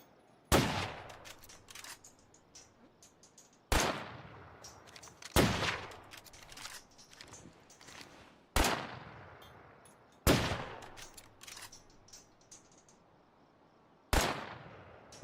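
Gunfire in the LEGO Horizon Adventures video game, six sharp separate shots spaced a few seconds apart, each trailing off in a long echoing decay, with no speech.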